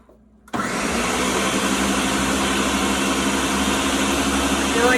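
Blender whirring loudly as it mixes ketogenic creamer, a steady motor roar that kicks in after half a second of quiet and runs continuously to the end.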